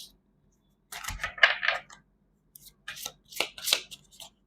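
Tarot cards shuffled and drawn by hand, a few short crisp riffling and snapping bursts in bursts close to the mic, with quiet gaps between them and no talk.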